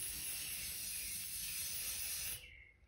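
A spray paint can sprays blue paint onto a trellis in one steady, close hiss that cuts off abruptly near the end.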